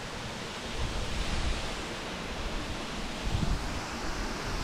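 Steady broadband rush of Susan Creek Falls heard from close range, a constant roaring wash of falling water with faint wind buffeting the microphone, no voices.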